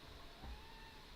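Flo, a pet cat, gives a single short, faint meow in a quiet room.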